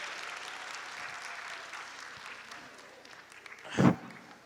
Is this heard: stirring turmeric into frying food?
no